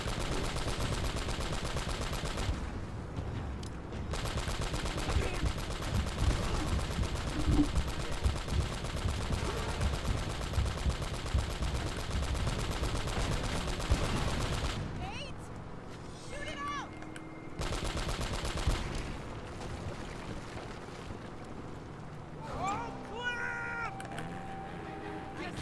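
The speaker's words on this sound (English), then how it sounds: "And then occasionally fire the grenade launcher." Grenade launcher fire and exploding scenery in the video game Uncharted: Drake's Fortune: loud, dense roaring bursts fill the first fifteen seconds, then sparser blasts and thin tonal game effects follow.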